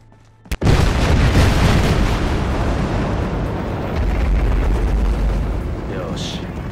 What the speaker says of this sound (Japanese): 放棄されていた麻薬工場が爆発。